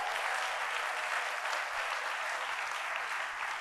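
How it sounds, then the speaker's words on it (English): Audience applause at a Cincinnati Public Schools back-to-school address, a dense steady wash of many hands clapping throughout, loud and even with no talk over it. "Give yourselves a round of applause."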